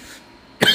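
A single sharp cough bursts out near the end after a quiet room stretch, in a flat filled with a gas smell from a faulty kitchen stove.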